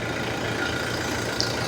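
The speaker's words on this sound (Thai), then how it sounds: "นี่คือเสียงเครื่องยนต์นะฮะ" A 2019 Toyota Fortuner 2.8 TRD with the 1GD 2.8-litre diesel engine idles steadily, a low, even rumble heard close with no talking over it.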